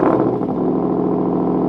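A 2021 Ford F-150 Raptor idles loud and close just after startup, a steady deep exhaust rumble with a slight rise near the start, heard alone with no talking.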